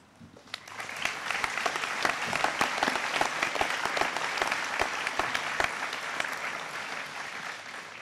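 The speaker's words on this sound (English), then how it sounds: "Let's thank them now with applause." A commencement audience at Harvey Mudd College breaks into applause, swelling quickly into sustained, dense clapping with distinct individual claps popping out across the eight seconds.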